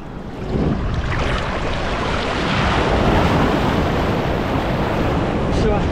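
Strong sea wind buffeting the microphone on Cleopatra Beach over a steady roar of surf, loud and continuous throughout.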